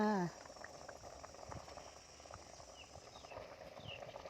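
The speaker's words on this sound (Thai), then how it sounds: "ปิดฝาเดือดให้ปลาสุกเลย" Thai forest curry with fish bubbling in a covered pot, a soft, steady, close-up burble with small irregular pops, faint and continuous, preceded by a brief voice at the very start.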